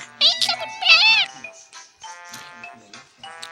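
A cat gives two loud, close, wavering meows in quick succession, followed by softer, shorter mews after a pause.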